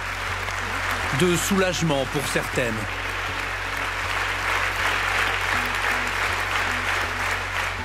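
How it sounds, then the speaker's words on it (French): Sustained applause fills the French Parliament's Congress joint session after the vote adopting the constitutional bill on the freedom to have an abortion, steady and dense throughout, with a voice speaking over it. "1 minute 30 ininterrompue d'applaudissements"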